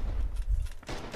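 Rapid gunfire from a Red Orchestra 2 battle with a Kar98 rifle, low booming shots and crackle blending into a dense, continuous barrage with a louder burst near the end.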